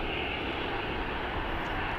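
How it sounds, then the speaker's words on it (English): Aer Lingus aircraft in retro livery at Dublin Airport gives a steady, fairly distant engine roar, a continuous broadband rumble and hiss with no talk over it. "Aer Lingus retro. Absolutely beautiful looking aircraft."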